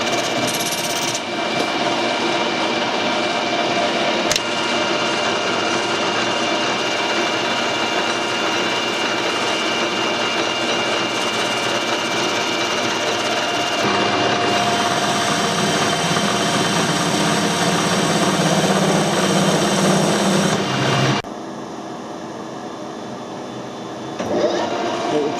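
A lathe turns stainless steel at 1000 rpm while a carbide tool takes a 1 mm cut, giving a steady loud machine whine with a harsher cutting hiss in the middle. It drops to a quieter hum near the end.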